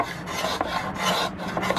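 A block plane shaves wood to round over corners, producing a quick series of raspy scraping strokes, close and steady, about four passes in under two seconds.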